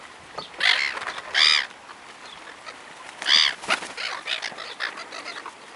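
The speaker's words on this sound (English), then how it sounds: "If you're going to feed them to the seagulls, I'll have them." Hungry seagulls being fed chips give loud, harsh squawks in two quick bursts, then a third, followed by scattered calls and wing flaps close by outdoors, with no talk.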